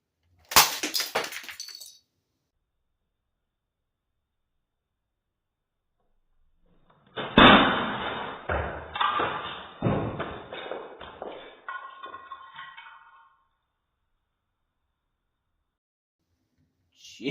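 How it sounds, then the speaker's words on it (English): A cheap Westclox digital alarm clock is smashed, with a short crack early on, then after a pause a loud burst of breaking plastic and rattling, clattering pieces that fade out. "just one swing and just completely smashed to pieces"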